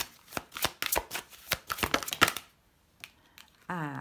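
Oracle cards being shuffled and one drawn from the deck, a quick run of crisp riffling flicks close up, followed by a pause and then a voice speaking.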